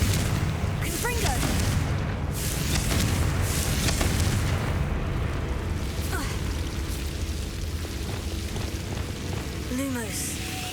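The Confringo explosive spell blast in Hogwarts Legacy lands as a dense, rumbling burst over a constant roar of rain and debris, with low booms underneath and short whooshing magical streaks cutting through.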